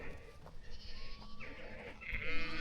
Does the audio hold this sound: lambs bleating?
yes